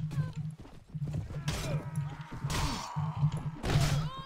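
Horses gallop in Mount & Blade Warband Viking Conquest with rapid, rhythmic hoofbeats under combat noise: sharp whacks, crashes and swishes cut in several times, and someone talks over it.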